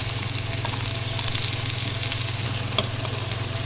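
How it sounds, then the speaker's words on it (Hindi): Finely chopped onions fry in half a cup of oil in a deep pot for biryani masala, giving a steady, even sizzle close by with light crackling and no talk over it. "अब हम इसको इतना फ्राई करेंगे"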